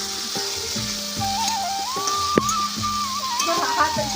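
Potatoes seasoned with salt and turmeric sizzle steadily as they fry in a pan, with close, continuous crackling and intermittent stirring. A tonal voice or music runs faintly underneath.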